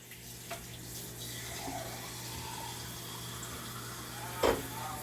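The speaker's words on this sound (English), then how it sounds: "we're gonna add a little bit of water to start with" Water runs and trickles quietly into a cooking pot for chicken asopao, a soft steady flow with a brief splash and clunk near the end over a low background hum.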